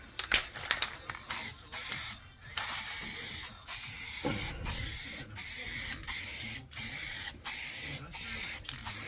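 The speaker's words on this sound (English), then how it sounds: "So I'm just finishing it off with a wax and grease remover" Wax and grease remover sprayed onto a car panel in repeated short hissing bursts, near and fairly loud, with brief pauses and a few clicks between sprays after scraping off sound deadening with dry ice.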